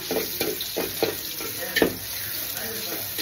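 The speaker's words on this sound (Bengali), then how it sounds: "তারপর পেঁয়াজটাকে একটু লাল লাল করে ভাজতে হবে।" Onions frying in a pan for polao, a steady close sizzle with a few louder stirring scrapes and clatters spaced about every half second.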